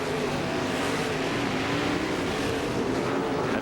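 Race car engine from Jeff Swindell's in-car camera during a 1994 Slick 50 World Series race at Canyon, a steady, loud, close engine roar with broad road and wind noise that holds throughout without any talk.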